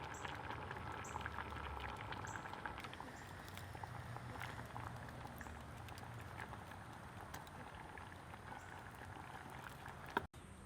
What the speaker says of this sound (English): we're just going to bring this up to a simmer